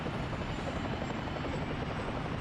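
A helicopter in the city-building game Workers and Resources drones steadily with a dense, continuous rotor roar that holds at an even loudness throughout, with no talk over it.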